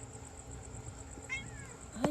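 A pet cat gives a short meow near the end, close by and fairly faint, over a quiet room with a steady background hum and a soft low rumble.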